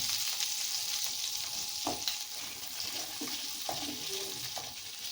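Onions sizzling in oil in a pan for chicken tikka masala, a steady close hiss of frying with a few soft clinks and stirring sounds.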